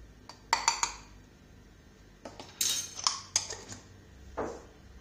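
A spoon stirs cut fruit and sugar for a fruit salad in a bowl, with a few sharp clinks and scrapes against the sides coming in short bursts between quiet pauses.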